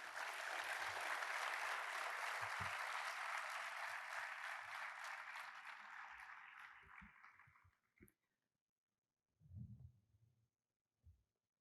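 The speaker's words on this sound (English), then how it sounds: "Let's give a round of applause for Chandrakant ji." A festival audience gives sustained applause, a steady wash of clapping that slowly tapers and stops at about eight seconds, followed by a few faint low thumps in near silence.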